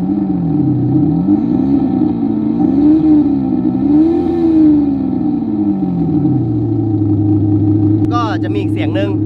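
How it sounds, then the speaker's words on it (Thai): A car's sport-mode exhaust sound, simulated and played through a phone-controlled speaker, revs up and down in smooth wavering surges, then settles to a steady drone. A voice starts talking near the end. "อันนี้เป็นเสียงมอเตอร์คาร์ที่เราเพิ่งเบิ้ลไปเมื่อกี้"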